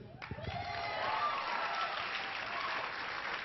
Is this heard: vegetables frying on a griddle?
no